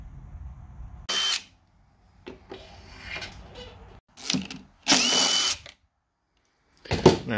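A power drill removing bolts from a Stihl BR550 backpack blower, heard as several short, close whirring bursts separated by brief pauses, with small clicks and handling sounds between them.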